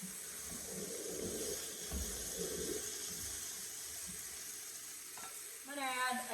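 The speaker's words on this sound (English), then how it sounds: "I'm going to add my butternut squash." Butternut squash goes into a pot for soup, giving a steady close sizzle with stirring and scraping throughout, a brief watery splash near the end.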